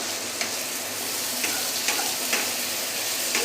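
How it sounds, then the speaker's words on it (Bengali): Tomatoes with grated ginger frying and being stirred in a pan, a steady bright sizzle with a few soft scrapes of the spoon at irregular intervals, close and continuous. "আদা কুচি দিয়ে বেশ অনেকক্ষণ ধরে এটাকে নাড়াতে হবে।"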